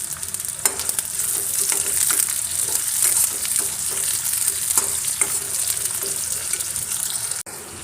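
Green chilies, shallots, mustard seeds and curry leaves frying in hot oil, a steady close sizzle with scattered spits and pops and occasional stirring scrapes throughout, ending in a brief clatter.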